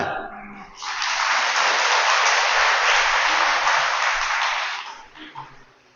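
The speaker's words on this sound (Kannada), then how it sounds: "ಚಪ್ಪಾಳೆ ತಟ್ರಿ" An audience at a Kannada religious discourse on Sharana Basava bursts into loud, sustained clapping that swells for several seconds, then fades into scattered claps and a murmur.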